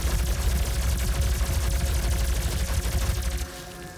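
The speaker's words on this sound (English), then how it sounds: "This gun's just really powerful if you do it right." A powerful gun fires in the video game Doom, giving a loud, rapid, continuous burst of shots that drops off sharply near the end.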